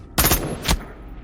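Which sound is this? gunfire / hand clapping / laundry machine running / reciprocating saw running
gunfire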